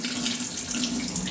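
Tap water runs steadily into a sink while tomatillos are rinsed under it, giving a continuous close splashing hiss with no talking.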